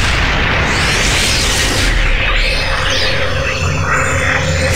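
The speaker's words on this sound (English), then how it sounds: "I thought it was some horrible explosion." An explosion-like spell effect in the video game Baldur's Gate 2, a loud sustained rumbling blast with crackling, swirling bursts layered on top, filling the whole stretch without talk.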